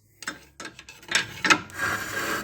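A stuck brake caliper being struck by hand a couple of times, giving a few sharp knocks followed by rough metallic rubbing and scraping, close and fairly loud with no talk.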